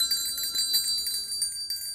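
A bell-ringing effect in a children's rhyming story gives a bright shimmer of high metallic tones that ring on steadily for about two seconds, with no voice over it.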